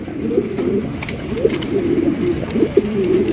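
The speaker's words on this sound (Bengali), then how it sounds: "এখানে রয়েছে একজোড়া চকলেট কালারের আপনার লক্ষা কবুতর দেখতেই পাচ্ছেন" Chocolate-coloured Lakha pigeons at a pigeon farm cooing in repeated low, rolling calls, close and fairly loud, with overlapping birds and light background rustling and no talk.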